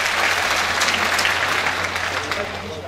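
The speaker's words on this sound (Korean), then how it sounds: "큰 박수 부탁드립니다" An audience at the opening ceremony of a Jeonbuk poetry and nature exhibition claps warmly for a guest being introduced, a steady full round of applause over a low room hum that eases slightly toward the end.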